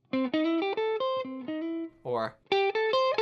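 Short blues guitar lick of bright, choppy plucked notes with a bent, sliding note in the middle, close and fairly loud, no talking.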